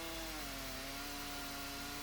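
Chainsaw cutting through a dead spalted maple log on a chainsaw mill, a steady close engine drone with a slight pitch sag under load, running alone without talk.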